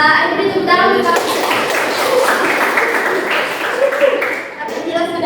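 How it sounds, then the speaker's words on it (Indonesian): A middle school class claps for a student's correct answer, the mixed claps starting after a teacher's voice and continuing under chatter before talking resumes at the end. "Ayo beri tepuk tangan untuk kami."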